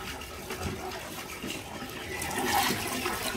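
Water poured over pet rabbits during a bath, a steady close splashing and running pour that swells toward the end, with no talk.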